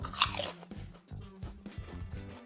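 Close-up crunching of Tyrrells potato chips: one sharp bite, then a steady run of crisp chewing crunches, faint and near with no talking.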